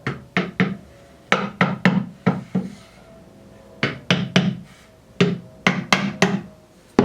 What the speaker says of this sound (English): with a little bit of a waggle, we can knock this onto those points and get our marks